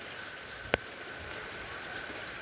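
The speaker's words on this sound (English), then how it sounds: "The rain just kind of slacked up. Oh, here it's coming in like waves." Steady rain falls outdoors around a carport in southeast Texas during a tornado watch, a continuous close hiss with one sharp click partway through and no voices.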